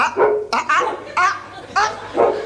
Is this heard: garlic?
no